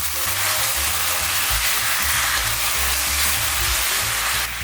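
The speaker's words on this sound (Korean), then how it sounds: "살짝 소스를 졸여줍니다" Sauce simmering in a pan with meat, onion and butter gives a loud, continuous hissing sizzle with steady bubbling, close and unbroken for the whole stretch.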